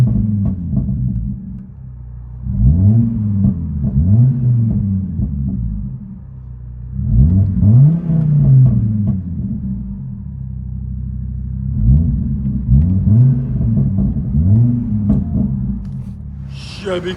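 Straight-piped 2011 Chevy Colorado four-door with a 3.7L five-cylinder and dual exhaust, heard from inside the cab: a deep, throaty rumble that swells in repeated revs and drops back to a steady idle drone, loud and close.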